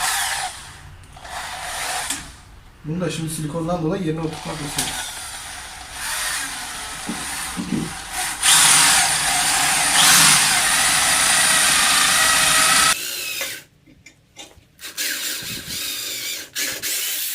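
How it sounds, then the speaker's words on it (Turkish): A power drill with an 8 mm bit whirs in bursts, revving up and down with short pauses, then a longer steady high-pitched run before cutting off. "şimdi önce 8 milimlik matkapla e, delikler açacağım"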